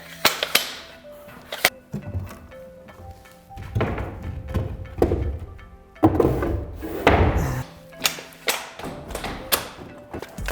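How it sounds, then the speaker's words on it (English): An attic door is worked open with a series of irregular thumps, knocks and wooden clunks, some heavy and resonant, close by and spread over about ten seconds. "it doesn't still actually take a little bit of work or effort to get this door opened"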